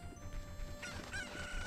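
A chicken clucking and squawking in the video game Zelda Ocarina of Time, a short loud burst of agitated clucks rising partway through, alone without talk.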